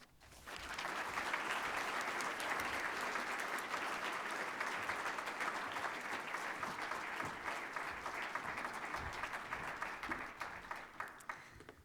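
An audience welcoming lecturer Helene Sader to a plenary address breaks into steady applause that swells quickly, holds for about ten seconds, then thins into scattered claps.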